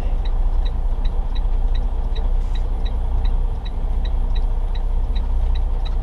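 A semi truck crawling at about 15 mph over a rough road leaving Duluth, Minnesota: a steady low engine rumble and road roar heard from inside the cab, with a light, regular ticking running through it.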